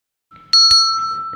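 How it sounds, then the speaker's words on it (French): A single ring from the bell used by a radio show during an improv cabaret in a bar strikes sharply, a bright ding that rings on with a sustained, slowly fading tone. "C'est la cloche de Westrack Radio que vous connaissez peut-être."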